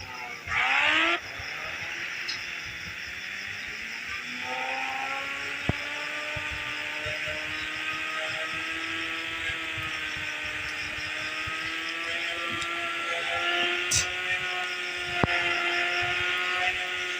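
Motorbike engine in the Indian Bike Driving 3D video game, a steady high-pitched whine rising and holding as the bike rides at high speed, with a sharp click or two near the end.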